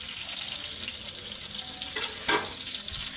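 Dried red chillies and cumin frying in hot oil, a steady, even sizzle throughout with a brief brighter crackle near the end, close and alone.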